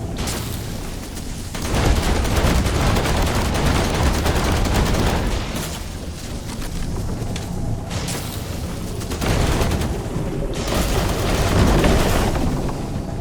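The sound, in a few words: gunfire in the video game The Last Caretaker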